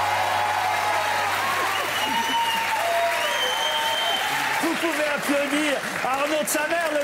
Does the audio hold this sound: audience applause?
yes